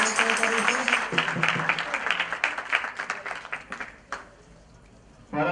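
Audience applause greets Acharya Maharaj at a Swaminarayan temple murti installation assembly in Maryland, a burst of many hands clapping that thins into scattered claps and dies away, followed by a short swell of noise.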